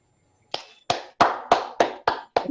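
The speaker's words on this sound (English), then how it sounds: "The clapping will never end." Seven sharp hand claps ring out one after another at an even pace, close and clear, after a moment of silence.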